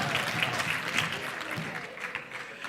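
A church congregation clapping hands together during a Sunday service, a dense, steady burst of many hands close by, with faint voices underneath.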